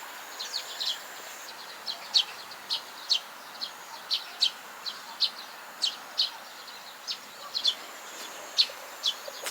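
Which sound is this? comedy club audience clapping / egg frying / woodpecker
woodpecker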